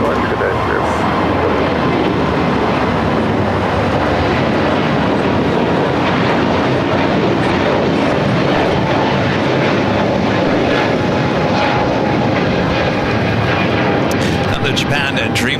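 Jet aircraft engines roaring loud and continuous at LAX, with a Phenom preparing to take off for San Francisco, and voices talking over the steady engine noise.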